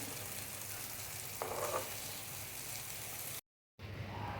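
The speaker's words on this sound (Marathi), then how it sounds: "एका साईडने बोंबील झालेले असणार आपण दुसऱ्या बाजूने ते मस्त परतून घेऊया" Bombay duck (bombil) fish pan-frying as it is turned to the other side: a steady, close hiss of sizzling oil with a brief scrape midway and a short dropout near the end.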